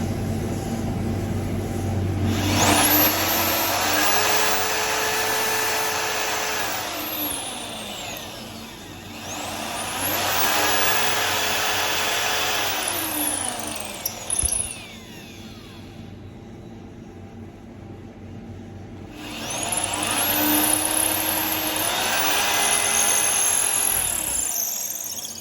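A power drill whines in long bursts with pauses between, rising and falling in pitch as it bores into a shofar horn, loud and close.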